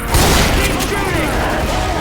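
Rapid gunfire fills a Left 4 Dead 2 fairground battle against a tank, with dense, loud overlapping shots and booms while character voices shout over the din.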